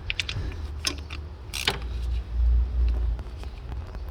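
A hand ratchet working a valve cover bolt on a Honda Odyssey, giving close, loud metallic clicks and clatter in short bursts, with some mechanical rattling in between.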